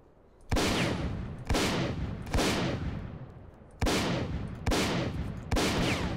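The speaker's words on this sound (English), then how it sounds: "using a shotgun at this range is terrible" Six heavy, booming shotgun blasts ring out in S.T.A.L.K.E.R. Faction Wars, spaced roughly a second apart, each a sharp loud crack followed by a long decaying rumble.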